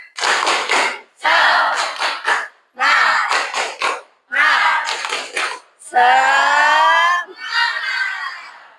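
A class chants an Indonesian clapping ice-breaker in rhythm, with bursts of clapping between the shouted phrases, loud and close, ending in a long drawn-out cheer.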